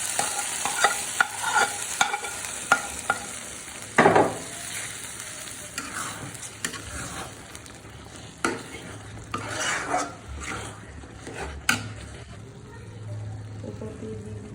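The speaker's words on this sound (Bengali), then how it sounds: "পেঁয়াজ কুচি, আর দিয়ে দিচ্ছি রসুন।" Chopped onion and garlic frying with dried chillies in a pan, a steady sizzle broken by repeated scraping and clinking of a spatula stirring against the metal, with some talk over the cooking.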